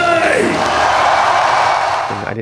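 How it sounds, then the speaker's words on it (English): A concert crowd roars and cheers for a band at a show, loud and continuous broadband crowd noise with shouting, no distinct spoken words, fading slightly at the end. "make a big round of applause for my band"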